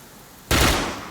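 A single loud burst of gunfire in the Dark Sector video game, cutting in suddenly out of quiet background and then decaying into a broad noisy tail.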